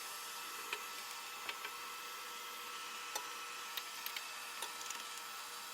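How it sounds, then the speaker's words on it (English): Vacuum cleaner running while cleaning a masonry fireplace, a steady hissing whoosh held throughout with scattered small ticks and knocks of debris, ending abruptly, no talk. "I'm going to turn the vacuum back on"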